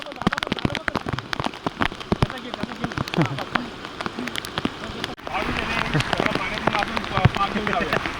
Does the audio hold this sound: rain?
yes